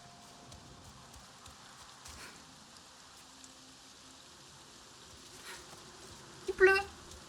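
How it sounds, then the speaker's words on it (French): Soft, steady video game rain in Avatar patters throughout at low level, with a brief louder burst of sound near the end. "Il pleut."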